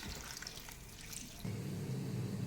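Tap water runs faintly, then pours louder into a pot as food is rinsed in a kitchen.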